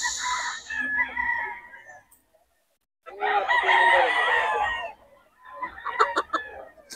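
A Golden Monkey gamefowl rooster crows close by in Bocaue, three loud crowing calls separated by short pauses, with faint background noise.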